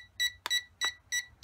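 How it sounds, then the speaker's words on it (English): A JXD 509G RC transmitter emits a series of short, clean electronic beeps in an even rhythm, about four or five in under two seconds, close and moderately quiet, with no talking. "the transmitter gives you a beep"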